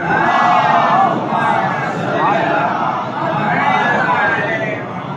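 A crowd at a majlis chants salawat in unison in response, a loud, sustained mass of voices rising and falling in waves.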